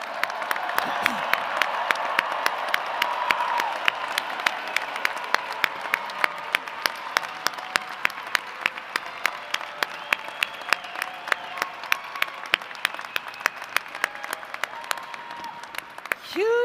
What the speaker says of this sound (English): let's give all of our graduates the biggest, loudest round of applause